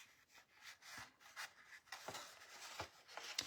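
Folded paper for a rigid box being burnished by hand, with soft, close, irregular rubbing and scraping strokes and a few light taps, quiet and without speech.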